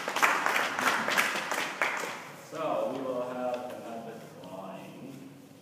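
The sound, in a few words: audience applause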